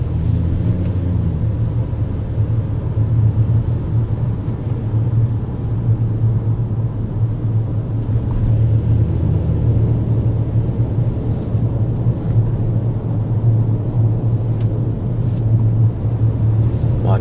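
Toyota Noah GR driven in manual shift mode, heard from inside the cabin as a steady, loud low engine and road rumble that stays even throughout with no talking.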